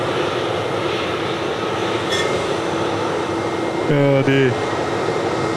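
A Jetstar airliner taxis at Sydney Airport, its jet engines a broad steady roar heard from nearby, with a brief voice breaking in briefly.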